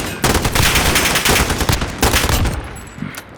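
Sustained bursts of close, loud automatic fire from an AN94 rifle in the Call of Duty Modern Warfare video game, rattling for about two seconds, pausing briefly, then firing again before trailing off.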